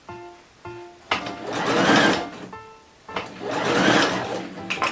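A sewing machine stitching the fold and threads of bias tape on a boxy dress, running in two steady whirring bursts with a short pause between, close and alone.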